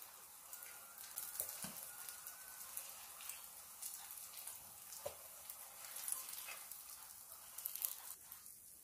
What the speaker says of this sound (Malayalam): ബാക്കി നമുക്ക് ഇതുപോലെ ഫ്രൈ ചെയ്തെടുക്കാം